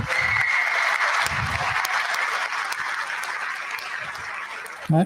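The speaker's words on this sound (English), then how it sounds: "you can applaud for him" An audience at a municipal election candidates forum applauds steadily for several seconds, a full wash of clapping with a few low murmurs of voices underneath.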